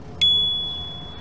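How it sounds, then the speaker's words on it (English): A single bright ding from the handlebar bell of a Movin Mini folding e-bike, struck once near the start and ringing on with a slow, clear decay over a quiet background. "There's a bell."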